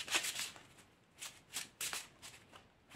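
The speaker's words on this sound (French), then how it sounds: "Alors je vais prendre une dernière carte." Tarot cards shuffled and drawn from a deck in a quiet room, a series of soft papery riffles and slides in short bursts, close and fairly faint, with no talking.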